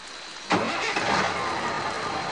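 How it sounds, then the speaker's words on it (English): A truck engine cranks and catches with a sudden loud burst, then settles into a steady rough roar that runs to the end. "The wheels turned and the engine roared."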